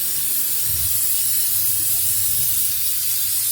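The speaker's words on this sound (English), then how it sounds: "I've been spraying this thing down." Brake cleaner hisses from an aerosol can onto a rusty rear differential, a steady, close spray that continues unbroken for several seconds over a faint low rumble, with no voices.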